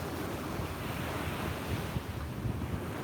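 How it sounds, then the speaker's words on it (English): Strong wind blows across a beach by the sea, a dense, constant roar buffeting the microphone with surf mixed in, loud and unbroken, with no voices. "It's so windy."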